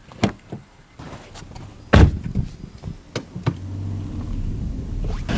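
A car door opening and closing on a hot day before a drive to football training, with a firm thud and a few knocks and rattles up close and no talk.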